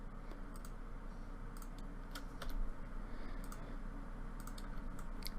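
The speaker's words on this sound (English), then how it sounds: "I would type in 8 and hit the enter key" Keys clack on a computer keyboard in a quiet room, a few quick taps spread out and ending in firmer strikes that include the enter key, with a low steady hum underneath.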